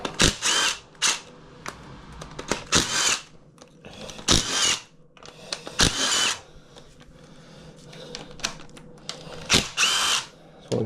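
A power tool drives a socket against the diffuser pulley bolt on a CDL engine, firing in loud, repeated bursts of whirring and rattling separated by short pauses.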